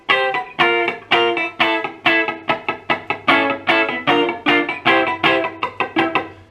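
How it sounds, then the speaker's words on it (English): Rapid, evenly spaced sixteenth-note electric guitar strums with a distorted tone, pulsing in a steady down-up rhythm with occasional accented hits. "I'm strumming down, up, down, up, down, up"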